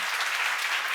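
A burst of dense applause from a church seminar congregation, steady and even for a short moment, moderately loud with no voices over it.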